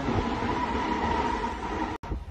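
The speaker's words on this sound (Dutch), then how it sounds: "Hier bij de metro." A Munich metro train rumbles steadily and close, a continuous rolling rail noise with a faint tonal hum, broken by a brief dropout near the end before the rumble resumes.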